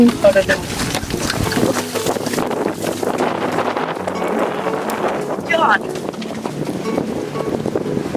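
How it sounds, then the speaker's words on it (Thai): Strong whirlwind gusts roar across a campsite beside a reservoir, buffeting the microphone with continuous blustery rumble, while voices shout excitedly over the wind. "ลมหัวหมุนมาแล้ว"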